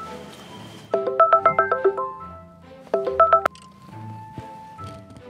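A telephone is dialed in two quick bursts of beeping touch-tone keys, close and clear, separated by a short pause, with faint room noise and clicks around them.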